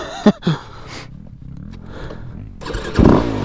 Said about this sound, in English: feel like that was a proper flame out right there